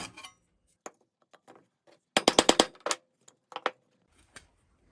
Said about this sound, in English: So I take a junk wood chisel. I pound a slot into the metal.